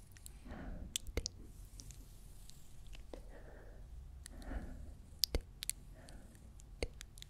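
Wet, close-up mouth and chewing noises from an ASMR stream, with soft clicks and smacks recurring every second or so over a low hum of room noise.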